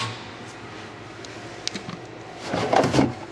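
A storage drawer slides open on a 2012 Lund 2075 Pro-V fishing boat, a brief scraping rumble building near the end, close and moderately loud with no talk over it.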